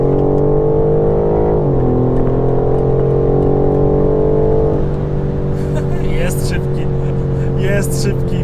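A 2021 BMW M4 Competition accelerates from inside the cabin, its engine tone climbing in smooth steady pitch, shifting once, then carrying on loud and sustained.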